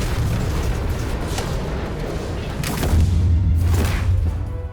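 A power bomb slam landing in Batman: The Telltale Series, a heavy, booming impact rumbling over a loud, dense game soundscape, with a second deep thud swelling near the end.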